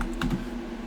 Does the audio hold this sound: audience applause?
no